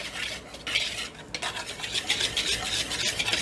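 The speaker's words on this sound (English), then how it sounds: "Okay, now whisk it together." Zucchini bread batter being whisked in a bowl, with quick rhythmic scraping and tapping strokes that stop briefly and then resume, close and fairly quiet, with no voices.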